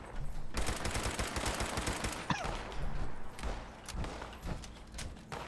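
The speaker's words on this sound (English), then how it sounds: "Got an automatic pipe rifle. Use it." An automatic pipe rifle in Fallout 76 fires long rapid bursts, dense and continuous near the start, then shorter volleys with brief gaps. The gunfire is close and loud, with a few thuds in between.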